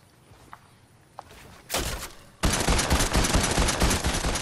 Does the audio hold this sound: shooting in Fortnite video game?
yes